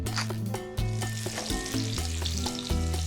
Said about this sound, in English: So when you sear the zucchini, you are making it lock whatever moisture is gonna stay inside.